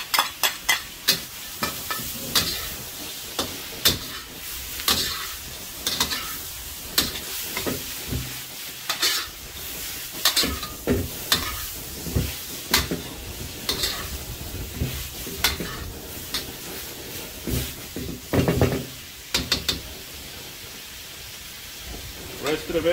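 Carrots and beans stir-fried for pork teriyaki, a constant sizzle punctuated by repeated scraping and clattering stirs in an irregular rhythm, close by, with a voice speaking at points.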